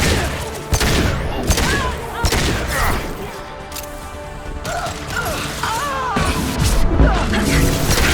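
Mass Effect 2 combat gunfire: repeated bursts of shots and metallic clanks crackle through a dense game mix with music and effects, steady and fairly loud throughout.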